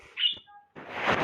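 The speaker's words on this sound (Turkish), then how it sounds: "arkada biraz kuşlarım ötüyor" Pet birds in a room give a bright chirp, a brief thin whistle, then a burst of busy twittering, fairly close and on their own without talk.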